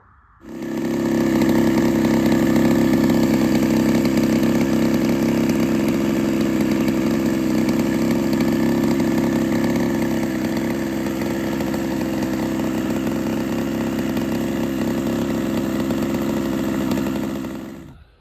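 A ported Husqvarna 61 chainsaw cuts firewood close by, loud and steady. The engine holds near full throttle for about sixteen seconds, its pitch dipping slightly midway before easing off at the end.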